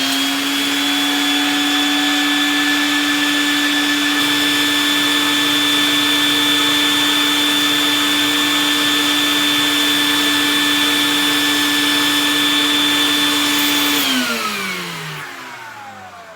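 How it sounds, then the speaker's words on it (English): A Vinyl Vac record-cleaning vacuum runs loud and close with a steady high whine, then winds down at the end as the motor shuts off. "I'm gonna turn on the vacuum cleaner"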